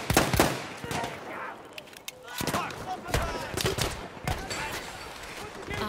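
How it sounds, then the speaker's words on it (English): Battlefield 1 enemy machine gun fire rattles in rapid bursts amid other gunshots and battlefield noise, loud and sustained across the scene. "There! Enemy machine gun!"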